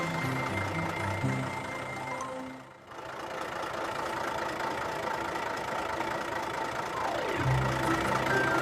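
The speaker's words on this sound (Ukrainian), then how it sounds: "Велика вантажівка може їхати." A big cartoon truck's engine idles steadily, then briefly dips before rumbling on as it pulls away, a mid-pitched motor heard close and alone.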